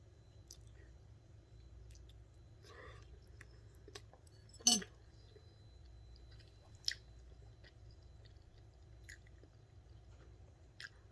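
Ramen noodles eaten during a tasting, with a few faint, sparse chewing and slurping sounds and one sharper click-like bite, all quiet against low background hum with no talking.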